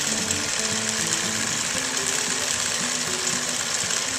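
Sewing machine running continuously at speed, a dense rapid mechanical whirring and needle chatter up close, stitching along the edge of a large quilt, with no talking.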